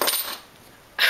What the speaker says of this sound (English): So I'm probably just gonna grab all of these keys.